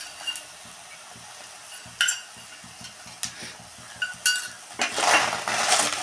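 Peanuts with salt and chili powder fry on a low flame, a soft steady sizzle broken by intermittent scrapes and clinks of a spoon stirring in the pan, growing busier toward the end; no voices.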